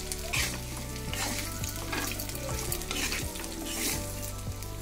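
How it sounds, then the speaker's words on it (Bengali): Potato pieces and cut drumstick (moringa) pods fry in oil in a pan, a close, continuous sizzle broken by repeated knocks and scrapes of a stirring spatula, with no voices. "আলুগুলো একটু ভেজে নিলাম, আর এবার আমি এর মধ্যে কেটে রাখা সজনের ডাঁটাগুলো দিয়ে দিলাম"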